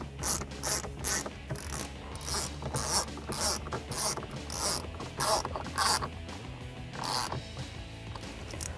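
A T20 Torx driver tightening screws during the install of a navigation unit in a 2009-2018 RAM 1500, giving close, rhythmic ratcheting clicks in quick repeated bursts over a faint background.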